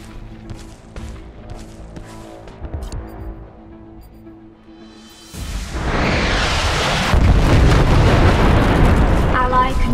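A massive orbital cannon blast in the online battle game Infinite Crisis erupts midway as a sudden, loud, sustained roar of explosive rumble and debris, following quieter game sounds and voice prompts.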